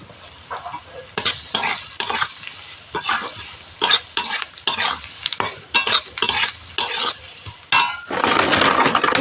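Curry being sautéed in a pan with salt added, a spatula scraping and stirring in steady bursts under a soft sizzle, close and fairly loud, with rice cooking nearby.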